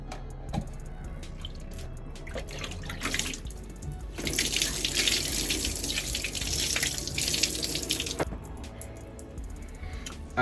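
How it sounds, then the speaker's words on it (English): Warm water runs from a tap and splashes through hair at a sink, soft at first, then a loud, close, gushing stretch in the middle before easing back to drips and squishy wet sounds. "You want to wet your hair with warm water."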